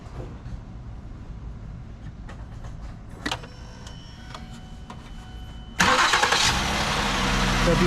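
A 2008 Ford Edge engine cranks and catches with a sudden loud burst, then settles into a steady, close idle after a stretch of quiet background shop noise.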